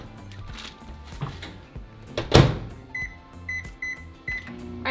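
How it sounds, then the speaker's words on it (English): Close clatter and handling noises, a loud thump, then a microwave oven heating tortillas in a Ziploc bag gives short electronic beeps several times in a row. "I'm just going to microwave them for 1 minute inside a Ziploc bag."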